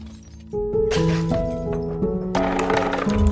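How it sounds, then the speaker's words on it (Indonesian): Someone strikes a bulletproof window pane trying to smash it, with repeated hard knocks and thuds against the glass, close and fairly loud, under a sustained musical tone. "Claire mencoba untuk memecahkan kaca jendelanya."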